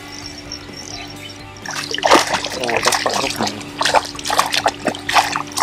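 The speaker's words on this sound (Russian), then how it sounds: "Всплески вот эти снимаешь?" Water splashing and splattering beside a boat while fishing for zander, pike and perch, a run of close, irregular splashes growing louder after a quieter start, with a voice speaking over it.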